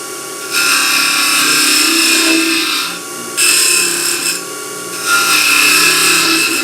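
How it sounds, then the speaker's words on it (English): A wood-turning scraper cuts a box lid on a lathe, giving three loud, close bursts of rough scraping over the hum of the spinning wood, separated by brief lighter pauses; no talk. "And I would do that with my scraper again."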